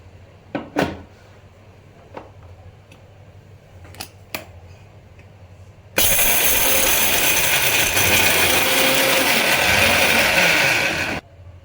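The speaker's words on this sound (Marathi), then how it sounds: "आता मी शेंगदाणे आणि लसूण एकत्र मिक्सरच्या भांड्यात बारीक करून घेत आहे।" A kitchen mixer grinder grinding peanuts and garlic together in its jar, starting abruptly after a few light clicks and knocks and running as a loud, steady whirring roar for about five seconds before cutting off.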